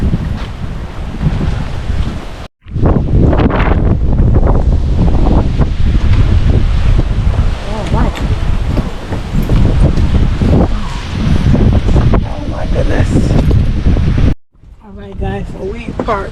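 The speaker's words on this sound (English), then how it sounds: "It's pretty windy." Strong gusting wind ahead of Hurricane Milton buffets the microphone in a loud, continuous roar, broken by two brief dropouts, with a voice speaking beneath it.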